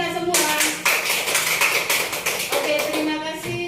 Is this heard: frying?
no